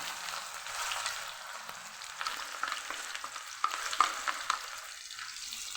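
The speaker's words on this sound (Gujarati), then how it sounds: "જીરું ફૂટી જાય એટલે તરત જ જે ડુંગળી સુધારીને રાખેલી એ ઉમેરી દઈશું" Chopped onions sizzle and crackle steadily in hot oil after cumin seeds, a dense frying hiss with occasional louder pops and stirring scrapes.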